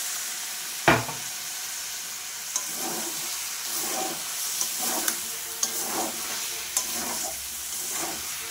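A spice paste loosened with a little water fries and sizzles in a pan while being stirred for a jackfruit curry, with a sharp clatter at the start and then repeated scraping strokes over a steady hiss.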